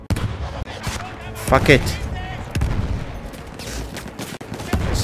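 Gunfire aimed at a tank in Battlefield 1: dense, rapid bursts and booming shots, loud and close, with a voice swearing over the battle noise.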